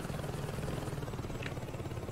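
A helicopter in the video game Saints Row 2 makes a dense, steady rotor and engine drone that fills the whole stretch without a break.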